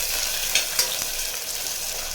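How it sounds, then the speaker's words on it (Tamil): Onions and green chillies sizzling steadily as they fry in a pan for parotta, a close, continuous crackling hiss with a few light stirring clicks. "சேர்த்துட்டு வெங்காயம் வந்து நல்லா கோல்டன் ப்ரௌன் கலரில் வதங்கி வரணும்."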